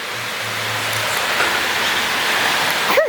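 Rain falls outdoors on a farm in Tanzania, a steady, dense hiss that swells slightly over about three seconds, close and unbroken, with no voices.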